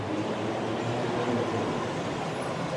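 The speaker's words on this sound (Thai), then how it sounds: "ขบวนนี้ กำลังเทียบชานชลาเนาะจะมุ่งหน้าไปนู่นแหละบางว่านู่น" A Bangkok skytrain pulls into the platform at National Stadium station, a steady broadband rumble and rolling rail noise that holds even and continuous throughout.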